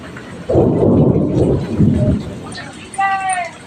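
Deep rolling thunder rumbles loudly over steady rain, with a brief high voice-like tone near the end.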